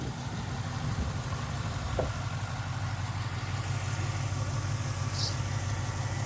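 A 1968 Pontiac Firebird restomod with an LS1 V8 and 2.5-inch exhaust idles steadily, a low rumbling burble with even pulses, close and constant throughout without speech.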